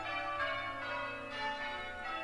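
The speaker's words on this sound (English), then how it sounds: "The church bells were ringing." Church bells ringing in a village, a dense, sustained metallic peal with overlapping strokes roughly every half second, heard fairly faint and steady with no talk over it.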